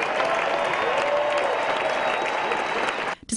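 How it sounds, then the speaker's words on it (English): Applause from a tennis crowd at the BNP Paribas Open for two champions, a dense steady clatter of clapping that holds for about three seconds and then drops away abruptly near the end. "How about a great round of applause for these two great champions?"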